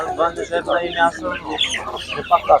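Czech hens at a busy animal market cluck and squawk in quick, loud bursts close by, with some background murmur around them.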